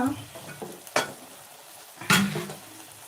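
Ridge gourd frying in a pan, soft sizzle under two sharp scraping strokes of a spoon stirring against the metal, with quiet stretches between.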